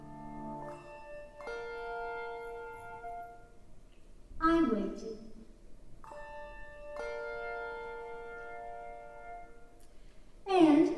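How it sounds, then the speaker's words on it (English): A doorbell on a house rings with bell-like chimes that ring out and decay slowly, struck twice with long sustained tones, while someone narrates between the chimes. "I watched my hand rise up and press the button of the bell."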